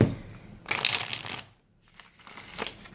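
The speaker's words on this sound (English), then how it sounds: "And I feel that as I'm shuffling the deck" A tarot card deck is shuffled close up in two bursts of crisp, riffling flutter with a short quiet gap between, then softer card rustling resumes.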